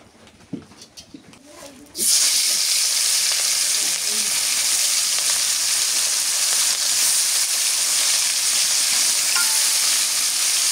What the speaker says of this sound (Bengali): কড়াই গরম হয়ে গেছে, আবার সরিষার তেল দিয়ে দিই।